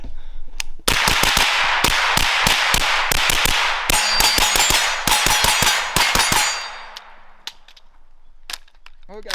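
Rapid metallic clangs and sharp cracks ring out as a gun fires repeatedly at a can, some shots tightly clustered and others spaced apart, and the firing thins out toward the end.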